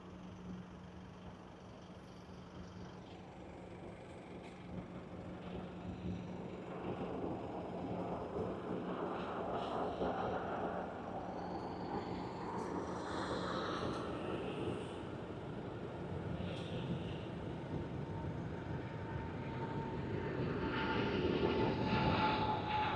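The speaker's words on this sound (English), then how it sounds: "You can hear the engines spooling up." An airliner's jet engines spool up on the takeoff roll at Sydney Airport, a broad, distant roar that builds gradually under steady wind and background noise, with no talking.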